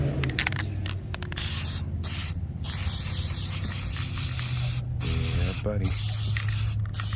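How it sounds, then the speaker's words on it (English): An aerosol can of Plasti Dip hisses steadily in short bursts as a fourth coat goes onto a car emblem, close up, with a low background hum and a brief spoken remark. "let's do this 4th coat"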